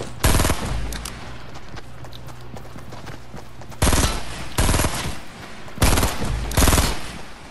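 Video game gunfire in loud rapid bursts, several separate volleys spaced a second or two apart, with quieter rattling game sounds between them.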